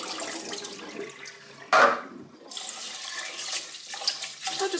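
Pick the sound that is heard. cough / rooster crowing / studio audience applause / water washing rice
water washing rice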